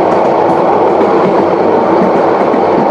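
The Subarna Express running nonstop from Chattogram to Dhaka, heard as a loud, steady, broadband rumble of wheels on rails, continuous and close as if from inside a carriage.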